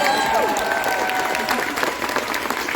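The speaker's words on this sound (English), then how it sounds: "okay, let's just do the applause." Fan Expo 2022 panel crowd breaks into applause, a thick wash of clapping with a few faint cheers and voices mixed in.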